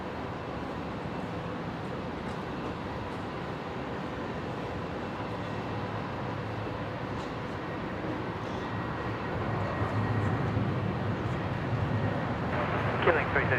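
A Qantas airliner rolling for takeoff on runway 19 left at Brisbane airport: a steady, broad distant engine roar that swells gradually toward the end, heard alone without talk.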